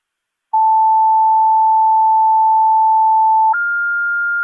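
Fire dispatch alert tones come over a scanner radio: a loud, steady tone held about three seconds, then a higher second tone, with no talk.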